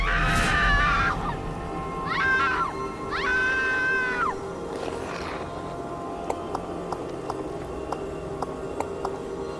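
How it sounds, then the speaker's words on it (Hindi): Someone screams at night in an animated horror story: three or four shrill, drawn-out cries rise and fall over the first few seconds, then give way to a dark hum and faint, sparse ticks. "रात को किसी के चिल्लाने की आवाजें आई।"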